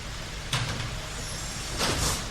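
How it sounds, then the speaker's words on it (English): Heavy garbage truck noise with a low engine rumble and two hissing bursts like air brakes, steady and fairly close, with no voices. "We got trash trucks."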